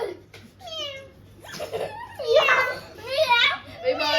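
A voice imitates a cat, making drawn-out rising and falling meows amid other children's chatter.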